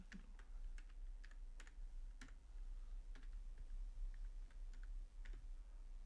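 Someone types short bursts of keystrokes on a computer keyboard, quiet and close, with clicks spaced irregularly over a steady low hum and no talk.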